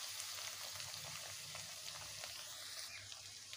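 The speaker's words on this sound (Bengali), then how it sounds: "ভালোভাবে মশলাটাকে কষে নেব" Spice paste frying with salt and turmeric for an aloo shing fish curry gives a faint, steady hiss and crackle of oil with light stirring, heard alone.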